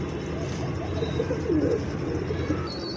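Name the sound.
pigeon cooing while being held for vaccination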